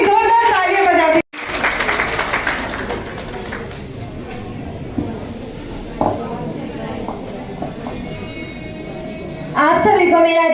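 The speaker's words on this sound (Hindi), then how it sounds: "एक बार इनके लिए जोरदार तालियां बजा दीजिए।" An audience at a Savitribai Phule birth anniversary speech competition applauds, a dense burst of clapping after a voice, with scattered clinks and a voice speaking again at the end.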